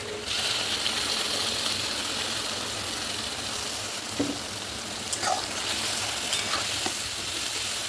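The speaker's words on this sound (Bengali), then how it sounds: "এবার আমি মশলাটা পেস্ট করে নিয়েছি, এটা আমি এবার তেলের মধ্যে দিয়ে দেবো" Spice paste and onions fry in oil with a constant bright sizzle, broken now and then by soft scrapes and stirring clinks. No one speaks.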